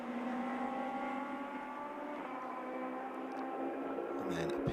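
Radical SR8 race cars sweep through the Ascari chicane at Monza in the 2015 Radical European Masters, a sustained steady engine drone with high harmonic whine, shifting pitch near the end.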